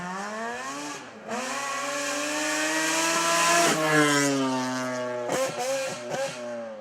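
A Mazda RX-7 rotary-engine rally car revving to 12,000 rpm at a rally slalom screams loudly with a steady harmonic whine, rising in pitch, then blips sharply several times near the end.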